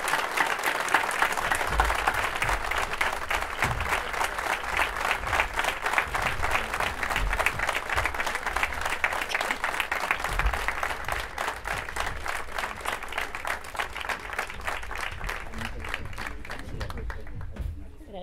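Dense, steady audience applause fills an award ceremony, loud and continuous with many hands clapping, then thinning slightly near the end.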